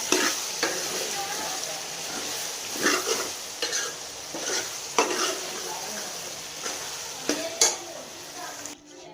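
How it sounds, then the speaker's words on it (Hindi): Salt and black pepper being stirred into Chinese-style fried rice in a hot pan, giving a constant sizzle with periodic spatula scrapes and knocks against the metal, close up and mostly without talk. "और 1/2 चम्मच काली मिर्च डालेंगे, और इसे कर देंगे अच्छे से मिक्स"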